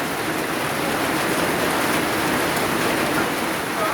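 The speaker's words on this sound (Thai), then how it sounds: "ตอนนี้ฝนตกพี่น้องเอ้ย" Steady, dense rainfall hisses evenly throughout on a rural Thai home, a loud continuous patter with no voices.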